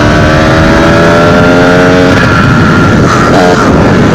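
A 125cc enduro motorcycle with an FMF Gold Series exhaust line and FMF Power Core 2 silencer, its engine running loud and close with a steady droning roar and rising rev tones, no talk over it.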